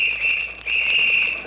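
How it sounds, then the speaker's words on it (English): A policeman's whistle sounds in two long, shrill, steady blasts separated by a brief break, loud and fairly close, with no voices. "Uh-oh, a whistle. Is that a policeman?"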